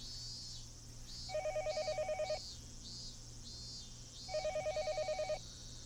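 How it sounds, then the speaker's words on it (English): Telephone ringing in two trilling electronic bursts of about a second each, separated by a pause, moderately quiet over a low background hum. "It's the phone."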